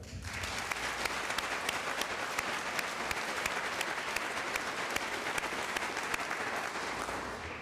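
Sustained audience applause at a campus carol concert, a dense, steady wash of many hands clapping from start to finish with a few sharper individual claps standing out.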